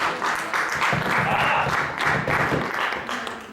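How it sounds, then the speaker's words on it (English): A modest theater audience at an improv comedy show gives a brief smattering of applause, fairly close, rising and falling with a few voices mixed in. "a smattering of applause"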